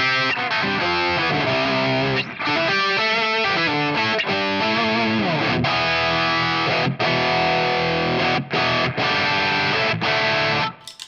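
Electric guitar played through a heavily overdriven amp pushed by a Tube Screamer pedal, with sustained distorted chords and quick riffs, loud and close, ending with an abrupt stop.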